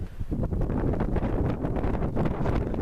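Wind buffeting the microphone on a mountain ridge at Helvellyn, coming in steady, loud, rough gusts with no talking.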